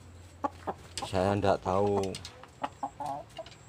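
Chickens on a small Indonesian breeding farm, including a newly acquired bird, cluck in short bursts, with a louder harmonic call in the middle, while a person speaks nearby.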